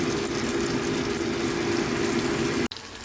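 Grated ginger sautéing with tomatoes in a pan, a steady close hiss and sizzle with a low hum underneath, cutting out abruptly near the end, without talk.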